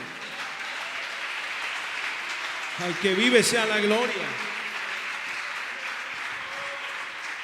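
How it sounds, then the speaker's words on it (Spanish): A church congregation applauds during a worship service, a steady wash of clapping throughout, while a voice briefly calls out over it midway. "Dele ese aplauso al Señor, hermano."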